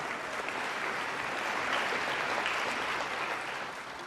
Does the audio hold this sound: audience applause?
yes